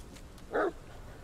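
A dog in the video game The Medium gives a single short, loud bark or yip, clear and close against a quiet, low ambient background.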